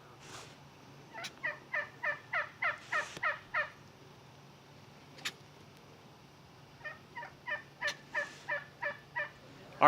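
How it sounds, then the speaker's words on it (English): Big turkeys gobbling on a cool morning at an outdoor fall workshop: two bursts of quick, rhythmic gobbles, about eight calls each, with a single call between them, fairly close and clear over a quiet background. "Good morning, big, beautiful turkeys."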